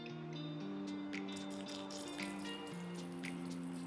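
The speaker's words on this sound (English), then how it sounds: "Now the air is coming out." Air bubbles up from a submerged Rob Allen dive torch during a pressure tank test, escaping through the switch. The bubbling gives a steady stream of soft drips and gurgles over a low hum, with no talk.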